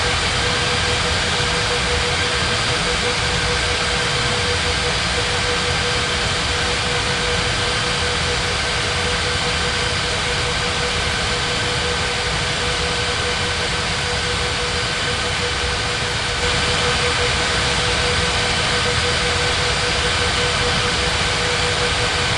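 A jet airliner at Las Palmas de Gran Canaria airport powering up for takeoff on runway 21 right, heard as a loud, steady broadband engine roar with a faint hum that holds unbroken throughout, no voices.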